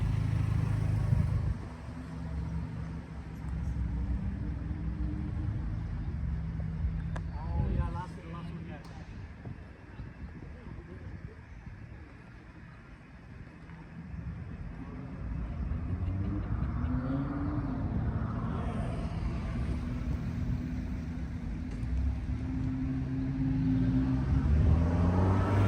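Toyota Camry cars pulling away from a car meet in San Francisco, engines rumbling and revving steadily near and at middle distance, with people talking over the traffic noise throughout.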